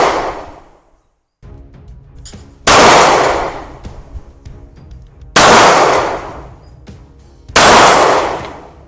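Three loud, sharp impact bursts from a Glock 19 pistol firing at a steel plate during target practice, each a hard crack with a ringing tail, spaced a couple of seconds apart with quieter handling noise between.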